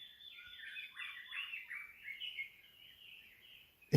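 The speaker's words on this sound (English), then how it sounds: "But you can hear the sounds of birds" Many birds chirp and trill continuously in dense, overlapping high-pitched song in jungle above Kahana, West Maui, Hawaii, moderately distant, with no voices.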